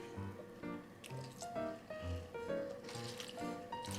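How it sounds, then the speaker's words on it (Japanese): Straight mentsuyu soup base is poured over frozen komatsuna greens, giving a close, continuous wet trickling and dripping with soft squishy splashes. "これを直接注ぐということですね"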